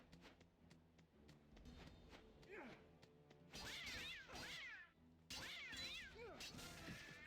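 Cat meowing inside an Egyptian-themed video game, several rising meow calls over game music and ambience, loud and close, with a game voice speaking at times.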